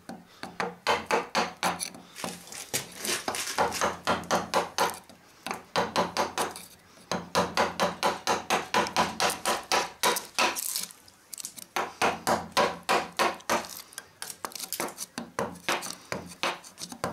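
Hammer blows drive a chisel of modest quality into a very old, very hard wooden beam, a fast run of sharp, loud, evenly spaced strikes in bursts with short pauses between them.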